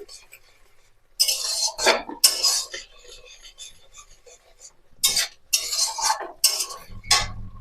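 Beetroot paste stirred in a pan with a metal spoon, giving bursts of scraping and clinking in two clusters separated by a quiet pause, close and fairly loud.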